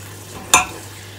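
Tadka tempering for nihari hits hot oil with a single sharp sizzling burst that quickly fades into a soft hiss, alone with no talk.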